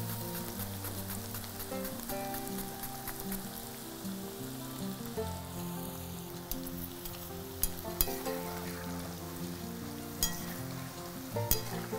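Pieces of food fry in hot oil with a steady hiss and scattered crackles, over tonal background music, with no talking.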